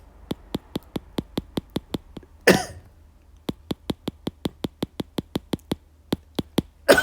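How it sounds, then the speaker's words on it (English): Two short coughs break through a steady series of sharp, regular clicking taps, one cough early and another at the very end. "Excuse my coughing."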